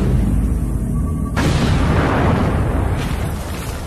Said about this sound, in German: Wenn wir es zünden, explodiert das Gemisch und verursacht einen riesigen Krater.